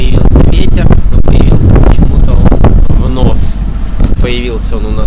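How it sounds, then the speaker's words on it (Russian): Strong wind at sea on a sailboat buffets the microphone in loud, gusty rumbles, with a voice talking over it. "Сегодня появился ветер."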